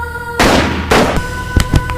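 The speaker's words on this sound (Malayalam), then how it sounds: "അതും ഈ കേപ്പ് പൊട്ടിക്കുന്ന തോക്കുകൊണ്ട്." Two loud cap gun pops from a film scene indoors, each a sharp burst with a short decaying tail, followed by a few smaller clicks and knocks.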